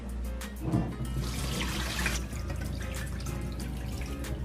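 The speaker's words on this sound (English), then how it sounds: "I'm going to drain this out and I'm going to add new water" Water from a pot of cooking beans pours and splashes steadily into a sink, a continuous gurgling flow with a low background hum.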